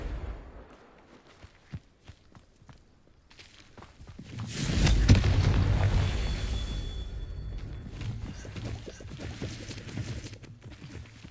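A Confringo blasting spell explodes in Hogwarts Legacy, a loud rumbling burst that swells and lingers for a couple of seconds before fading into scattered footsteps and game ambience.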